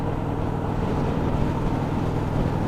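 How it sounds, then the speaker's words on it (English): A naked 900 motorcycle engine revving high at freeway speed in top gear, a steady loud engine drone mixed with rushing wind noise, constant throughout. "on the freeway, it's revving too high in order to keep up with everybody."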